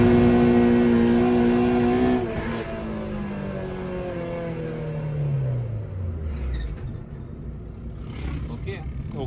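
A Honda-engined car driven hard on a road, its loud, close engine note sweeping steadily down in pitch over a rumbling roar.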